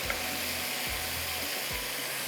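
Onions and whole garam masala fry in a pan with a constant broadband sizzle and hiss, close and even, with faint low rumbles underneath and no voices.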